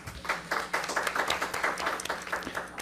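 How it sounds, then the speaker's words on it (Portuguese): An audience at a panel session on internships and employability applauds in a steady, pulsing burst of many hands, moderately loud and close, with no talking over it. "Uma salva de palmas"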